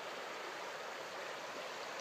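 Evolution Creek, a mountain stream on the John Muir Trail, rushes with a steady, even wash of flowing water, moderately loud and unbroken, with no talk.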